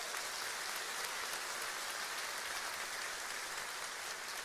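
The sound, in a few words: audience applauding in church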